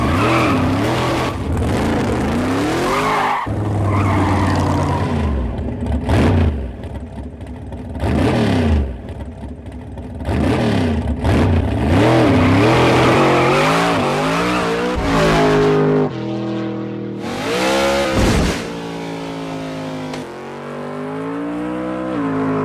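A 1970 Dodge Charger R/T, or a very similar car, revs its engine hard in repeated loud surges, with long tire squeals and skids between bursts, up close and with no talking.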